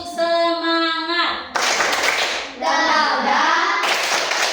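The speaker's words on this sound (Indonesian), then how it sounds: "Oke, tepuk semangat." A group performs the Indonesian tepuk semangat clapping chant: a sustained chanted vocal line gives way to bursts of sharp, loud claps, then more chanting and clapping in quick rhythmic alternation.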